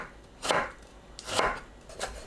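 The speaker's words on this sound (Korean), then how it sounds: "채 썰어주세요." A knife julienning tomato on a cutting board, a few crisp, separate slicing thuds spaced about a second apart, close and clear with no talk.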